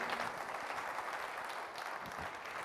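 A church congregation applauds steadily and fairly quietly for the whole stretch, the claps blurring into a continuous patter with no voices rising above them.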